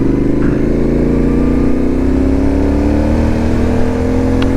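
A dirt bike fitted with Tusk 2 Track tires runs along a trail, its engine droning loud and close throughout with a steady, slowly rising pitch as it pulls.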